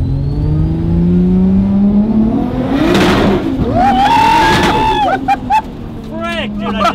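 A powerful car accelerates hard with its tyres losing traction in a tunnel, the loud engine rising and surging while a squealing tyre-like whine climbs and wavers, followed by brief crackling pops near the end.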